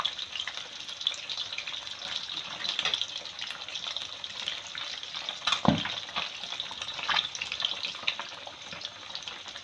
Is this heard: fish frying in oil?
yes